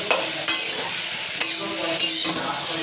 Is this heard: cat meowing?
no